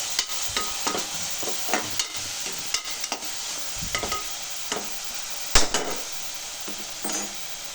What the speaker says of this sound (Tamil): கல்லுப்பு இப்போ கொஞ்சம் நல்லா வதக்குவோம்.